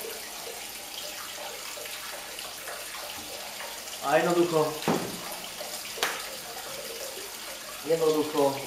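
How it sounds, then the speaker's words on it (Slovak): Salted water pours steadily into a Frima multifunction pan fitted with a cooking basket, a continuous hiss and splash that runs beneath a person talking throughout. "voda sa nám naplňa"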